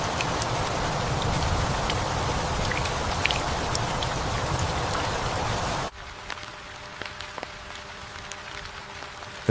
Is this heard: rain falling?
yes